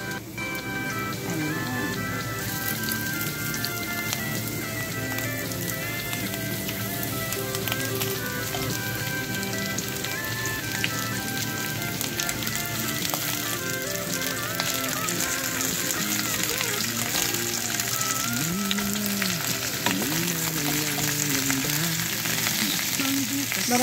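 Roast goose fries in a pan with a dense, steady sizzle and crackle like light rain, continuing close and even for a long stretch with faint background tones.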